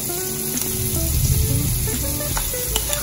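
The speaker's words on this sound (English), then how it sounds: "I'm just gonna use that same oil and just start to saute the vegetables." Vegetables sauté in oil left over from frying saltfish for an escoveitch pickle, giving a steady close sizzle with scattered light crackles and faint stirring, with no voices.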